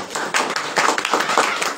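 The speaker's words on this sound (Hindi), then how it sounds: "जोरदार ताली है।" Enthusiastic audience applause at a church preaching service, dense steady clapping from many hands throughout, moderately loud with no speech over it.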